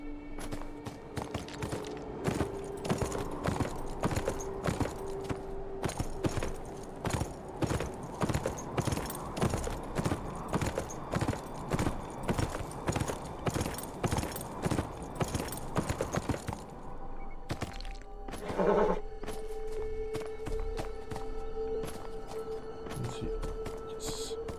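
Rhythmic clip-clop of horse hooves at a steady walking pace in the video game Beyond: Two Souls, close and loud, running continuously for about seventeen seconds before a brief pause and a short whinny-like sound.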